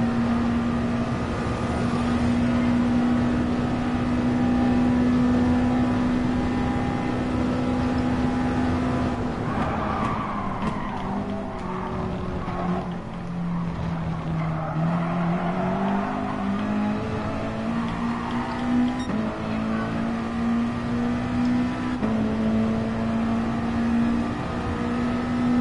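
Race car engines roar continuously in a PS4 racing video game, a steady droning whine that dips in pitch mid-lap then climbs again as the cars accelerate, loud and close with no talking.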